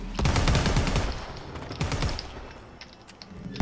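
Rapid bursts of automatic gunfire rattle loudly in Predator: Hunting Grounds, a dense volley in the first second followed by a second burst and a few scattered shots as it fades.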